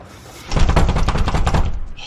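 Rapid, loud pounding on a locked door, a dense run of knocks lasting over a second, with a voice calling out around it.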